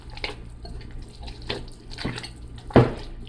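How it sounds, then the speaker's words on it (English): A cup of water is poured into salt fish fritter batter, giving soft splashing trickles with a few faint clinks and a sharper splash near the end. "now I'm just going to add a cup of water to start"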